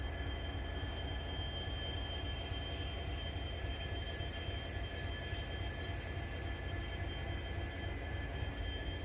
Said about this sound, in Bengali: লোকোমোটিভেরই আওয়াজ হচ্ছে খালি